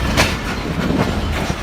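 A Pakistan Railway train rolls into a station platform with steady rumbling and soft rhythmic wheel clatter, close and continuous with no talk.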